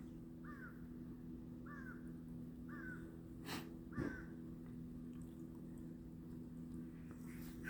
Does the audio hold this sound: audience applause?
no